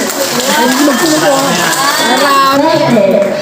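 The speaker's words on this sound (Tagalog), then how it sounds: "Palakpak ang lahat na nandito ng mga purpose member." A barangay assembly audience claps and cheers together, a dense, steady crowd roar with voices mixed throughout.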